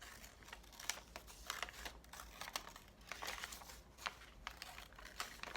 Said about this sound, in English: it's pretty easy to see when you're cutting it out